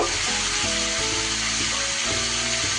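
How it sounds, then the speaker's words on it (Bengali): Prawn and mixed vegetables fry loudly in a pan as cabbage goes in last, a dense, steady sizzle with faint scraping and low clatter running throughout. "এবার সব শেষে আমি বাঁধাকপিটা দিয়ে দিলাম।"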